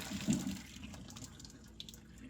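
Cooked macaroni noodles and water pour out of a pot into a sink, a short splashing burst at the start settling into a steady running-water wash, fairly quiet and with no talk.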